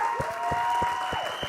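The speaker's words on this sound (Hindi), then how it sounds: "जैकी श्रॉफ साहब के लिए एक बार दिल खोल के तालियां बजाओ यार पहले तो" A crowd at a film trailer launch event claps for actor Jackie Shroff in a short burst of applause, moderately loud, with a steady tone and some thumping in the background.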